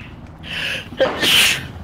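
A single sharp sneeze with a quick inhale before it, heard close during online game play, with faint background noise.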